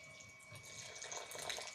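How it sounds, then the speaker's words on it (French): A small splash of water is poured into a blender holding oat powder for an American-style frappé, a short, close trickle that lasts under two seconds. "j'y ajoute, pour que ça mixe plus facilement, un tout petit peu d'eau"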